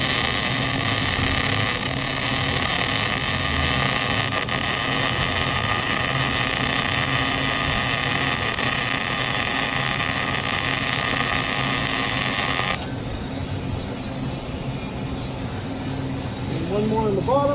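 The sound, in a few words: welding fender onto flatbed trailer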